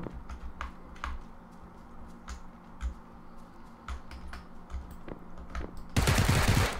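Gunfire in PUBG comes as a series of sharp, rapid cracks and short bursts at moderate distance, ending in a loud, dense burst at the close.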